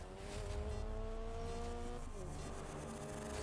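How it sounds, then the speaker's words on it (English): A car engine in the racing video game GRID drones steadily at a constant pitch, then dips and shifts as if changing gear, with a faint tire hiss underneath. "Oh, this car is slow."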